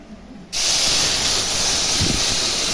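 A sudden loud hiss bursts out as hot water hits frying spices in a pan for khichuri, then keeps up as a steady, roaring steam sizzle.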